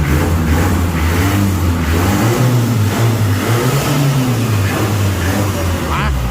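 Tuned Nissan Frontier pickup on a dyno during a power test, rated around 266 horsepower. A loud, close engine drone holds for the whole stretch, its pitch wavering and rising as the revs climb, with a voice faintly underneath.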